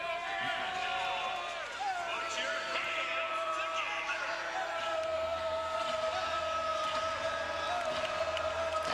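Basketball arena crowd at an Oregon State Beavers versus Washington Huskies Pac-10 game, on its feet and cheering before tip-off; a steady, dense roar of many voices fills the space continuously from start to finish.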